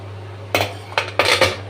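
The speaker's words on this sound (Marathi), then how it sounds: "आणि आपण आता कुकर उघडून बघूया" Metal clanks as a cooled pressure cooker of dal khichdi is opened, with three or four sharp close knocks and scrapes of the lid in quick succession.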